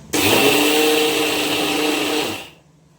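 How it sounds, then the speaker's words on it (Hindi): A kitchen mixer grinder coarsely grinds rice in a loud, close, steady whir. It starts abruptly, runs for a little over two seconds, then winds down to silence, with no talking. "चलो अब इसको ग्राइंडर कर लेती हूँ।"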